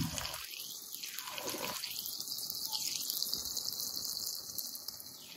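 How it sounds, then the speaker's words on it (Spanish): Salsa is poured into a pan of hot oil with sautéed onion, giving a steady sizzling hiss with a few swelling, sweeping surges, fairly faint and without talk. "Está el momento de agregarle nuestra salsita"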